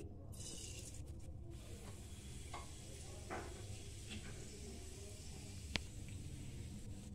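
White sesame seeds sizzle and crackle steadily in hot oil, a continuous frying hiss with one sharp pop near the end.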